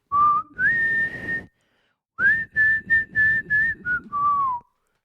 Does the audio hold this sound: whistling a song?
yes